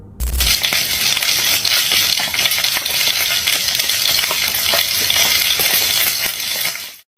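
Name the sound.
bizarre creature sizzling in a frying pan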